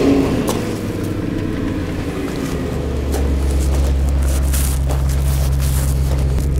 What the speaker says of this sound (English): now we need to start the engine within 30 seconds